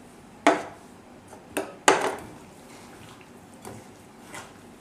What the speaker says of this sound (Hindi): सारे मैदा, कॉर्नफ्लावर एंड राइस फ्लावर और ये सारे मसाले भी डाल देते हैं। और इसको हम मिक्स करते हैं।